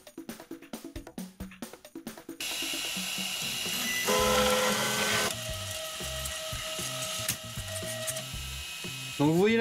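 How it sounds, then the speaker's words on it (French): A Dagoma DiscoEasy 200 3D printer calibrating its bed: rapid stepper-motor buzzes and whirring tones that change pitch as the axes move to the center and four corners, close and steady, with no voices. "la machine va calibrer tout d'abord le plateau, donc elle règle le calage au centre et aux quatre coins avant de lancer son impression"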